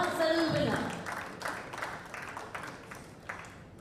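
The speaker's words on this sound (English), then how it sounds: "please put your hands together for a round of applause for the 10-meter air pistol" Applause for the men's 10-meter air pistol bronze medal winner at an ISSF World Cup ceremony in Bhopal, a steady crowd clapping that gradually eases off under a faint voice.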